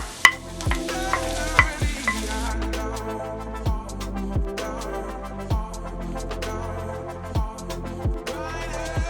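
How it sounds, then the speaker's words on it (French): Onions and garlic cook in a hot pan with a low, steady sizzle, punctuated by regular clacks and scrapes of a utensil stirring against the pan every second or so; no speech. "Pendant ce temps que les oignons cuisent"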